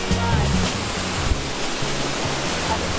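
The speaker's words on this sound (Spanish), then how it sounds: "Mira la caída de agua increíble que hay aquí." Huay Kaew waterfall in Thailand roars as a steady, loud wash of falling water, with low rumbling tones underneath throughout.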